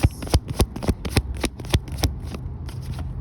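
Tarot cards shuffled by hand in a quick run of crisp riffling slaps and flutters, close and fairly loud, thinning into softer rustling toward the end.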